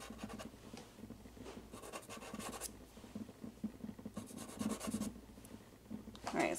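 Pastel being rubbed and blended on paper during a portrait drawing, a steady dry scratching and rubbing texture with short bursts of stroking, fairly close and continuous without talk.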